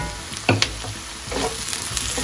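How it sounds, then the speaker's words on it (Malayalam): Carrot and potato pieces sautéing in a pan for a pineapple chicken stew, giving a steady close sizzle with a couple of sharp stirring scrapes and clatters near the start. "ഇതുകൂടെ ചേർത്തിട്ട് ഒന്ന് വഴറ്റിയെടുക്കാം."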